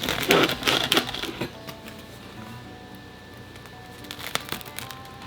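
Knife sawing into baked sourdough bread crust: crisp, crackling crunches up close, dense at first, then a quieter stretch and a few final crackles.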